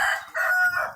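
A rooster crows once, a short, fairly loud call heard alone with no talking.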